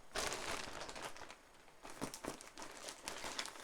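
Crinkly plastic bag holding yarn from a Hobbii lucky bag being handled and opened, quiet and close: bursts of crisp crinkling and rustling with short pauses between.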